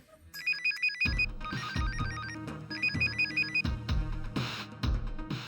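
A phone ringtone plays loudly and close, a repeating bright electronic melody pattern with a few short pauses between phrases, and no one speaking over it.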